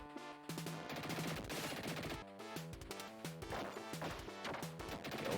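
Retro game gunfire and shattering glass as windows are shot out in the Mega Drive Dick Tracy game, with repeated loud crashes and quick shots set over chiptune music.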